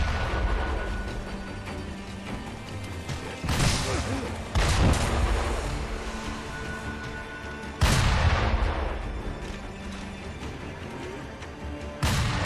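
Cannon fire in the samurai action game Sekiro: Shadows Die Twice, set at a fort, heard as three or four loud booming blasts spaced several seconds apart, each decaying into rumbling battle noise.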